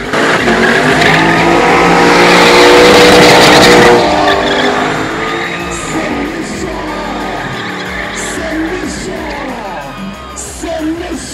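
Rally GT race cars at an automobile show roar past, their engines loud and close, with screeching tires and skidding. Crowd cheers and whoops mix in, and the noise eases after the first few seconds.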